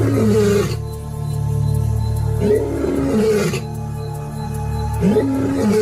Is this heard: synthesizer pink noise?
no